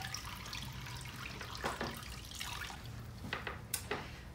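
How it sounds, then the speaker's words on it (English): Excess water squeezed by gloved hands from a soaked shibori-dyed fabric, a soft continuous wet trickle with scattered drips and splashes, close and quiet, no talking. "squeeze out some of the excess water"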